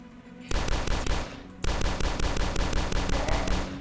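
Rapid gunfire from the video game Dusk: two loud bursts of repeated shots, the second long and sustained with a steady rhythm, close and dominant.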